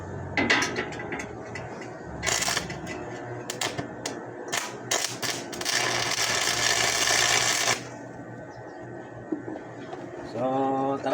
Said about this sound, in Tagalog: So isang welding run tayo mga kabakal.